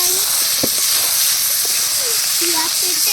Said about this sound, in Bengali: এবার কেটে রাখা আলুগুলো দিয়ে মশলার সাথে একসাথে কষিয়ে নেবো